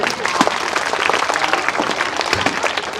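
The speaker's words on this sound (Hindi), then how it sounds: "सभी लोग ताली बजाएंगे।" Students and audience clapping at an Independence Day school celebration, loud, dense and continuous applause from a large crowd, with faint voices mixed in.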